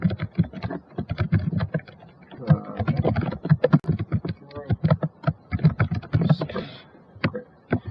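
Keys tapped on a computer keyboard while data is entered in Excel, a quick run of close clicks with speech-like harmonic bands between them.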